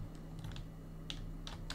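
Sparse keystrokes on a computer keyboard while entering revision notes in CAD software, about six light clicks spread unevenly across the moment, faint and close over a steady low electrical hum, with no talking.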